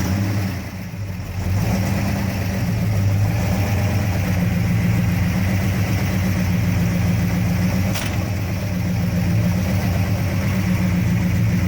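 A 1968 Dodge Charger with a 426 Hemi V8 idles nearby, a loud steady rumbling idle with a lumpy mid-range throb and noisy valve-train chatter, running alone without talk after starting.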